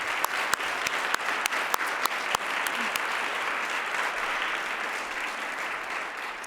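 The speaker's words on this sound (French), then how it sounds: "On peut les applaudir." Applause from the audience at the Thérèse-Casgrain Equality Prize award ceremony, a steady wash of many hands with a few sharp, close claps standing out early before settling into even clapping.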